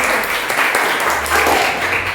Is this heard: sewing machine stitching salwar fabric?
no